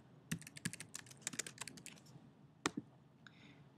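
Rapid bursts of typing on a computer keyboard, irregular clusters of crisp key clicks close by, a flurry early on, then a pause and a few more isolated taps toward the end, with no voices.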